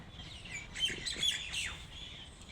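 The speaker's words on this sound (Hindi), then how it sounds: "ये हॉर्नबिल पक्षी है।" A hornbill calls outdoors in Delhi with a few short, sharp chirping notes over steady background noise, fairly faint and at a distance.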